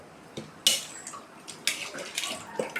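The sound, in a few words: dissolving tamarind in water by hand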